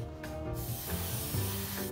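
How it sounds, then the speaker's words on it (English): An airbrush spraying paint onto a Flames of War scale model Jagdpanther tank, a steady close hiss with faint air-compressor hum underneath and a brief gap near the start. "Always test before you spray."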